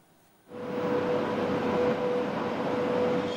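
An evacuation train from Donetsk region pulls into a station platform in Rivne region: after a brief quiet start, a loud sustained rumbling roar with a faint steady tone swells in and holds, no voices present.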